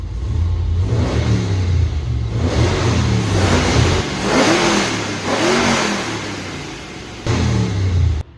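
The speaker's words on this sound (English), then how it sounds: "So let's warm it up and we'll give it a run." A 575-horsepower 407-cubic-inch carbureted pump-gas V8 warms up nearby, its loud, rumbling idle rising into several repeated throttle blips and revs, alone without speech.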